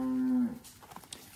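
A heifer out in the pasture gives one long, low, loud moo that cuts off partway through, followed by scattered rustling and knocking sounds from outdoors.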